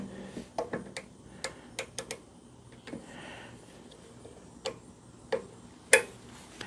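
Torque wrench clicking on a brake caliper pin of a 2014 Harley-Davidson CVO Limited, a series of sharp, close ticks at an uneven rhythm with quiet gaps, one louder click near the end, no talk.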